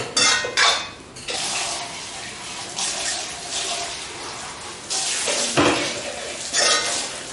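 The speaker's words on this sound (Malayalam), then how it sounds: "ഇനി നന്നായിട്ട് ഫ്രൈ ചെയ്യണം." Kerala-style chicken curry being fried and stirred in a pan: loud metallic scrapes and clanks of a spoon against the pan come in uneven bursts over a steady wet hiss, close up and without talk.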